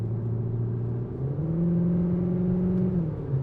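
Artificial engine sound piped into the cabin of a 2024 Cupra Formentor Hybrid VZ, a steady droning hum that climbs in pitch as the car accelerates, heard close and moderately loud with no talking.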